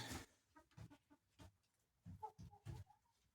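Hens in a backyard henhouse give soft, close clucks in short irregular bursts, with one rising squawk among them and quiet gaps between.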